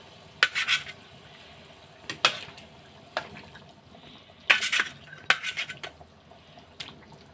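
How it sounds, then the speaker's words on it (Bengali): Fish pieces going into a pan for a tomato fish curry (macher jhol), heard as a few sharp, close splashing and clattering bursts spaced over several seconds, with a soft wet background and no voices. "এখন এর ভিতরে মাছ দিয়ে দেবো।"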